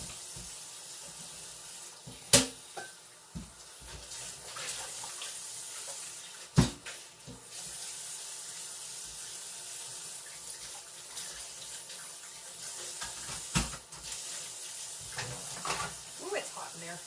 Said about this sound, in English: Let me wash my bowl.